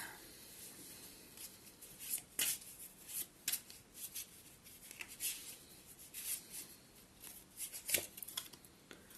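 Tarot cards are handled and shuffled close by in quiet, with irregular soft flicks, slaps and rustles of card stock coming in short bursts.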